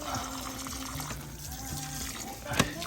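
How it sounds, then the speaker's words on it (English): Water trickling and splashing out of a cleared drain hole in a koi pond's three-barrel filter, a steady close flow with a brief louder splash near the end. "There, more water's coming out."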